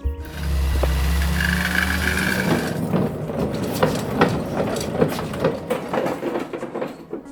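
A Mini car engine set up outdoors for carburettor tuning runs with a steady low hum for a couple of seconds, then breaks into a loud, rough, irregular mechanical clatter that continues to the end.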